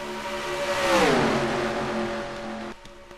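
Race cars in a racing video game qualifying session, a pack of engines howling loud and close, rising in pitch then sweeping down as they pass, steady drone continuing before cutting off sharply near the end.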